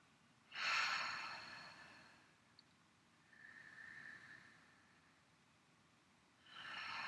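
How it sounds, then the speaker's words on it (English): Deep breaths taken during a morning breathwork routine: a strong sharp inhale early on, a softer drawn-out breath in the middle, and another forceful breath rising at the end, close and unaccompanied by talk. "So just 3 deep breaths here."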